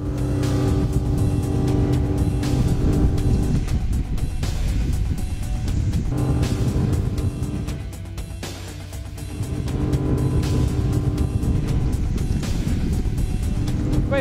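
Ranieri International Next 290 SH motorboat with twin counter-rotating propellers on a Suzuki 350 hp outboard, accelerating with a loud, steady engine roar and rushing hull noise, dipping briefly midway before returning.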